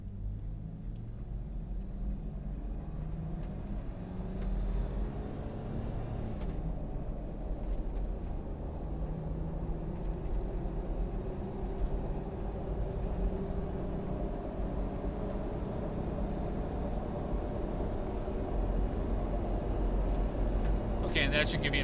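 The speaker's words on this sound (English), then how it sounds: "she's gonna accelerate here real hard onto the freeway up to about 70 miles an hour" A Toyota 1FZ-FE engined vehicle accelerates hard onto a freeway toward about 70 mph, a steady low engine rumble and road drone filling the cabin throughout, with faint rattles and a brief talking voice.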